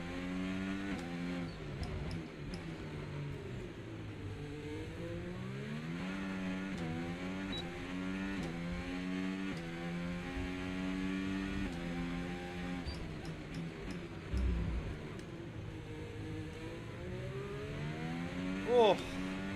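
An F1 car in F1 25 drives a lap around the Singapore circuit, its high-pitched engine repeatedly rising and falling through gear changes and corners. The whine stays close and loud throughout, with quiet commentary underneath.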